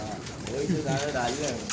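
Gola pigeons coo softly in a loft, a brief run of low warbling calls with a voice talking nearby.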